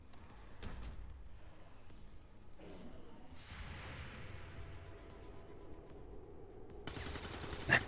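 Gunfire bursts from XCOM 2 soldiers shooting through walls during a co-op fight against the Lost, a steady stream of rattling shots with whooshing effects, fairly loud and continuous with a sharper pop near the end.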